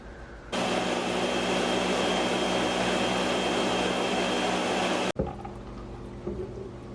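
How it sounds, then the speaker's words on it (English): A blender purees butternut squash and cauliflower soup with a steady, loud whirring roar that runs for about four and a half seconds, then cuts off abruptly, leaving quieter kitchen clatter. "And now all of our soup is blended."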